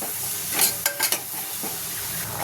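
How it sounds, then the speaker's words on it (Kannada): Spices and curry powder fry in a pan on low flame: a constant soft sizzle with a few quick scraping stirs, close and with no talking. "ಇದನ್ನು ಸ್ವಲ್ಪ ಫ್ರೈ ಮಾಡ್ಕೊಳ್ಳಿ. ಗ್ಯಾಸ್ ಯಾವಾಗಲೂ ಲೋ ಫ್ಲೇಮಲ್ಲಿ ಇರಲಿ ಮಸಾಲೆಗಳು ಹಾಕ್ಬೇಕಾದ್ರೆ"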